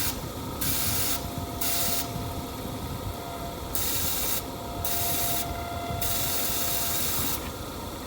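Evaporator coil cleaner sprayed into the vents of a 2013 Chrysler Town and Country, a steady broadband hiss with several pulsed bursts over a constant background blower rush, close and continuous.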